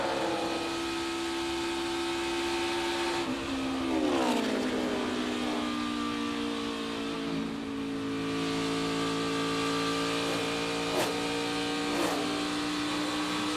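A NASCAR Xfinity race car at Kansas Speedway heard from onboard, its engine droning loud and steady, then the pitch sliding down as the driver lifts off the gas early into corners before climbing again, no talk.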